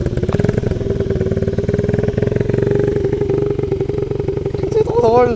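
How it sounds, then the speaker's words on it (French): A small motorcycle engine idles close by with a steady, buzzy drone, then revs up briefly near the end. "il faut toujours faire chauffer la moto"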